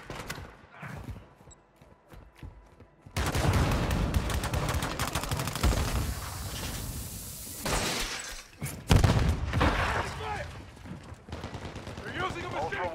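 Call of Duty DMZ gameplay with close, loud bursts of machine gun fire and heavy impacts, broken by brief gaps. Radio-style game voices are heard in between.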